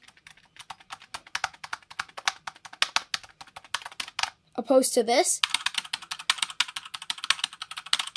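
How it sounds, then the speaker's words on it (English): Rapid typing on keyboards with linear red switches, an RK61 and a Razer Huntsman Mini with built-in sound dampeners, clatters steadily and close up, with soft keystrokes in a fast rhythm; a brief spoken phrase breaks in partway through. "So this has RK61 red switches, and this has Razer red switches."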